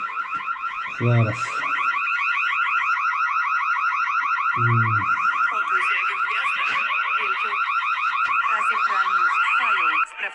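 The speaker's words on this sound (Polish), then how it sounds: "alarm się załączył." A car alarm blares continuously at a building site with a rapid warbling electronic tone, loud and close; two short low thumps sound early on.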